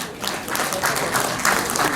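Applause from an audience aboard the Hangang Ara boat at Yeouido Hangang Park, steady and moderately loud throughout, with a few sharper bursts of clapping standing out.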